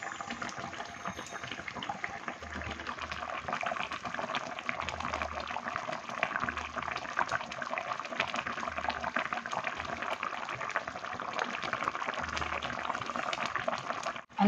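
A pot of fish curry simmers on the stove, with a steady soft bubbling and popping heard close up and continuing evenly throughout, no voices.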